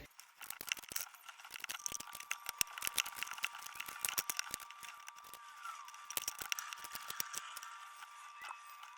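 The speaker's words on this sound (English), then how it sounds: "So what I'm going to do is speed up the shuffle." Tarot cards are shuffled rapidly, giving a dense run of quick, crisp clicks and riffles at close range with no voices over them.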